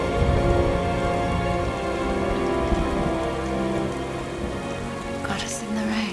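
Steady rain pours down in a scene from the film V for Vendetta, a dense, continuous hiss of drops on surfaces that fills the whole passage, with a faint low rumble beneath and no voices.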